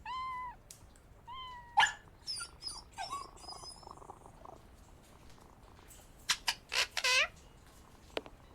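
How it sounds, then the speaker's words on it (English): An injured cat in the video game Sherlock Holmes vs Jack the Ripper meows plaintively in several drawn-out, falling cries, interspersed with fainter sounds and then a final cluster of louder, higher wails. "This cat seems to be in a sorry state."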